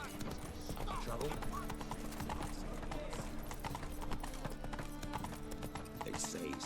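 Horse hooves galloping in The Witcher 3, a fast steady clip-clop rhythm running throughout, close and loud, with a snort or whinny layered over game ambience and a voice speaking briefly.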